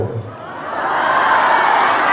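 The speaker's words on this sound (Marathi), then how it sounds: "जोरदार शाळेसाठी आपण टाळ्या वाजवतो." At a Police Raising Day event, an audience bursts into clapping for school children, the crowd noise swelling quickly from a quiet start into a loud, sustained wash of applause.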